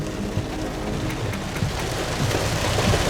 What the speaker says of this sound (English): Sorry for the rain noise, guys.